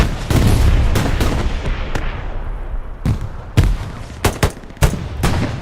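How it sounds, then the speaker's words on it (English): Grenade blasts and gunfire in a Day of Defeat-style multiplayer scrim on the Carentan night map: repeated sharp loud bangs and bursts over a dense, continuous battle din, alone without talk. "Grenades come in at Fodler."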